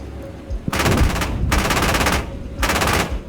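Marder A1 autocannon firing in a video game: three rapid bursts of loud, hard-hitting shots, each about a second long, separated by brief lulls with no voices.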